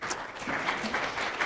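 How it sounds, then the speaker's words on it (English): Attendees at an educational workshop clap for themselves, a brief, faint patter of scattered applause lasting just over a second. "hand clap for yourselves"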